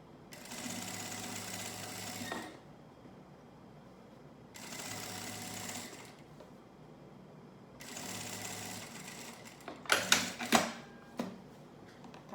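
A sewing machine stitches bias binding along the top of a thermal school lunch bag, running in three steady bursts separated by pauses, followed by a few sharp clicks and handling noises near the end.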